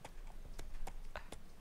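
Horse hooves clip-clop in the Pocket Card Jockey video game, four or so quiet, evenly spaced hoof knocks over a soft background.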